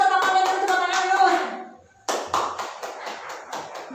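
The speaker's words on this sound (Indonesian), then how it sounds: "Ayo tepuk tangan untuk tamannya dulu, tepuk tangan dulu." Children clap their hands in a short rhythmic pattern of crisp taps, starting over a teacher's voice and after a brief pause continuing as a few distinct, close claps.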